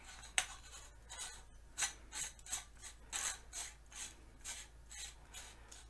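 Part being screwed onto an AR-15 pistol build chambered in 300 Blackout, heard as a close, quiet series of regular ratcheting clicks and scraping turns with a faint steady hum underneath.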